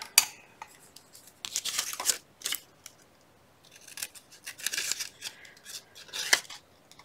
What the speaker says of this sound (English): Alright, scissors.